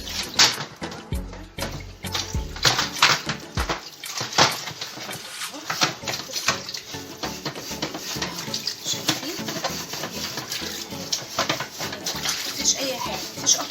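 Water splashes and sloshes while a kitchen range hood is scrubbed and washed down, with irregular close splatters and running water continuing steadily throughout, and a voice talking intermittently underneath.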